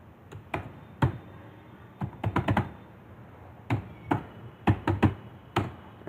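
Someone types a command on a computer keyboard with irregular clusters of crisp, close key taps separated by short pauses, over a faint steady background hiss.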